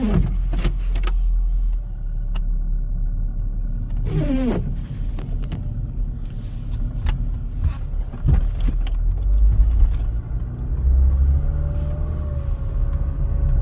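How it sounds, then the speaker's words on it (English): A 2009 Chevy Cobalt with 130,262 miles on a test drive: steady engine and road rumble from inside the cabin, with creaks, clicks and a rising whine partway through, no talking. "Now I'm going to take it for a quick test drive."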